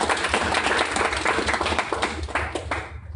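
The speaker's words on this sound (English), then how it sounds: "So everybody please give a round of applause to Louis Salin." A meetup audience claps for a speaker introduced at the Austin.RB Ruby group, a short burst of dense hand clapping that holds steady and then tapers off at the end.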